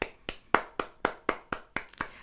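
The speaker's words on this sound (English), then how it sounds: "we need to applaud them" Slow, deliberate hand claps, about nine evenly spaced sharp claps from a single person nearby, with no talking.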